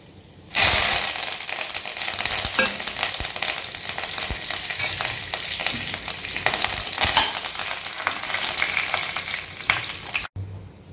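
Loud, steady crackling sizzle of fennel seeds, cinnamon, cloves and bay leaf frying in hot oil for Chettinad chicken gravy, continuous and close, with faint clinks partway through.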